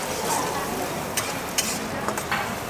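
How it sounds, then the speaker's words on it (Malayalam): Chopped onion frying in hot butter in a pan for butter chicken, a steady soft sizzle with faint stirring clicks and scrapes, close and moderately quiet. "ബട്ടർ ചൂടായി അപ്പോൾ നമുക്കിനി നല്ലതായിട്ട് ആ പൊടിയായിട്ട് അരിഞ്ഞു വെച്ചിരിക്കുന്ന ഓണിയൻ അത്രയും ഇട്ടു"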